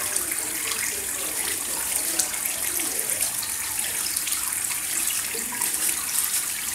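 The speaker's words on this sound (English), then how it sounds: "And then just pick the brush up and just you just clean your nails with it." Water runs steadily into a sink while a brush scrubs fingernails beneath it, a constant close hiss with faint scratchy strokes under the flow.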